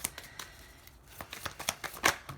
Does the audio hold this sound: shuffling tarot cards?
yes